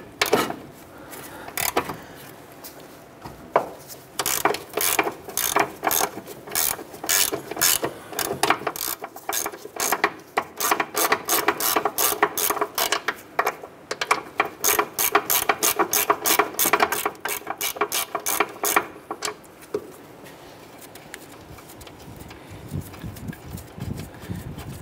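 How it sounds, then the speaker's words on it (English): A ratchet fitted with a 17 mm socket backs off the upper ball joint nut on a 2008-2012 Honda Accord, giving long runs of rapid, close metallic clicks that start and stop in bursts and never break into talk. "Using a 17 millimeter socket, we're gonna go ahead and remove our upper ball joint nut."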